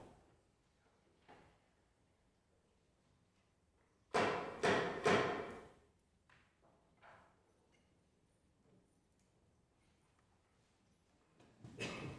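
Three or four close, firm hammer blows drive a ceremonial nail into a flag staff at a formal flag consecration, followed by softer taps in an otherwise quiet hall.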